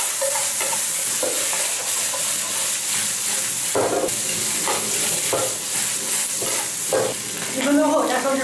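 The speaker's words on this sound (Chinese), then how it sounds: "大火翻炒一分钟" King oyster mushrooms are stir-fried over high heat in a wok, with a loud continuous sizzle and repeated scraping tosses of the spatula, plus a brief steamy hiss near the end.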